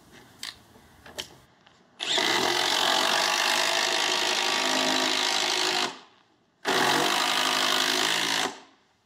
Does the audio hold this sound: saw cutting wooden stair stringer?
yes